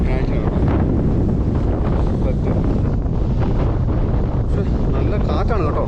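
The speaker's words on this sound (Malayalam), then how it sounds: "നല്ല കാറ്റുണ്ട്." Strong outdoor wind buffeting the microphone at a village wedding setting, a loud continuous roar with gusty rumble throughout.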